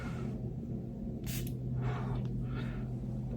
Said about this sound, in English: So let me give it a nice spray.